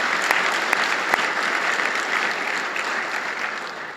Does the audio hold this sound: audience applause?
yes